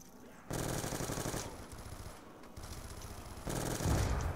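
Video game gunfire in rapid automatic bursts, dense rattling volleys that start and stop in blocks, loud and close, with faint talk mixed beneath.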